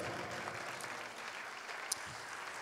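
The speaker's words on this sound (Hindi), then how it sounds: "हम उनके लिए चाहते हैं एक बार आप जोरदार तालियां बजाएं।" Steady applause from an audience at a book launch event, continuous crowd clapping at even volume with no voices, one brief sharper clap standing out near the end.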